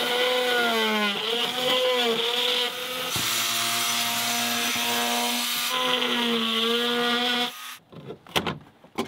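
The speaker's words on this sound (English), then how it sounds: "I just cut out the hull liner, which is like this gel coat thing" A power tool cuts through a boat's gel coat hull liner with a steady whining, pitch-shifting drone that runs for several seconds, then stops and gives way to a few clattering knocks and scrapes.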